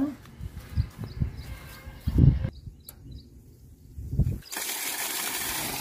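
A newly installed submersible motor pump in farm fields pushes out water in uneven bursts and splashes that settle into a steady hissing gush toward the end.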